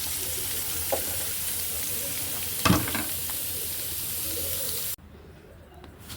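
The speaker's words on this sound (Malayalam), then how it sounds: "നമുക്കിനി ഉള്ളിയും പച്ചമുളകും തക്കാളിയെല്ലാം വഴറ്റാം" Onions, green chillies and tomatoes sauté in hot oil for a beef curry, with a steady hiss and a brief clatter of stirring, then the sizzle cuts off abruptly near the end.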